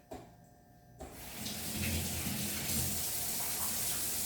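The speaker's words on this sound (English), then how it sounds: "let me just wash my hands quickly," Hands washed under a running kitchen tap while baking a Bundt cake: after a brief quiet moment the water gushes on and flows steadily and loudly, close by, with no talking.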